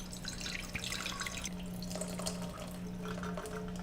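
Water poured steadily from a vessel into a cold brew coffee container, 1,200 milliliters going onto grounds, a continuous close splashing and trickling stream with a faint steady hum beneath and no talking.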